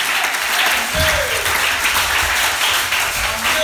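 Applause and cheering from a congregation during a French-language church service, a steady, dense wash of clapping that fills the whole stretch at an even, loud level, with voices mixed into the crowd noise.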